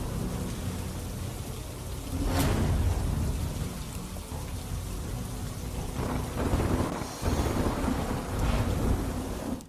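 Steady rain falls in Surat, hissing on surfaces and dripping nearby. Distant thunder rolls through it, with a sharper crack around a quarter of the way in and more rumbling later, moderately quiet overall.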